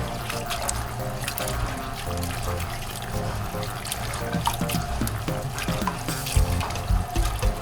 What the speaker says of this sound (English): Of course, your hands are washed.